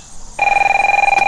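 A telephone rings with a steady, loud electronic bell tone that starts abruptly after a short quiet moment and continues unbroken in a rapid warbling pulse, heard indoors at a home residence.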